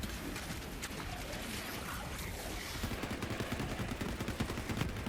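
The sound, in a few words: SMG gunfire in Borderlands 3 video game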